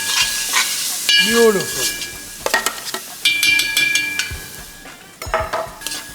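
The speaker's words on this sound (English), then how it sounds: "So now we're going to brown our onions really well before we add our ginger and garlic." Onions brown in a pan for chicken curry. Bright sizzling and stirring scrapes come in bursts while a voice talks over them and other tonal sounds intrude.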